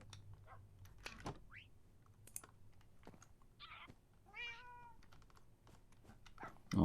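Cats meowing in a Minecraft house, a few short, faint mews spaced apart over quiet clicking, with one longer cry near the middle.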